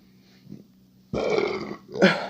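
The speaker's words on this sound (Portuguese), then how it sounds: "eu dei um arroto agora com prazer" A loud, drawn-out belch rumbles for about a second, followed by a shorter second burst of burping.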